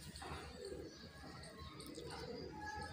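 Soft pigeon cooing sounds in a busy outdoor setting, low throaty calls repeating amid steady background noise.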